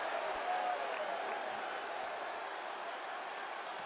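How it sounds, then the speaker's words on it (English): Crowd cheering and applause from the arena audience in the WWE 2K25 wrestling video game as a wrestler rolls into the ring, a steady dense roar filling the whole stretch. "The fans letting out a cheer."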